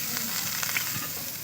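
Grated garlic and ginger fry with onion and carrot in a pan, giving a brief, steady, close sizzle with a faint stir and no talking.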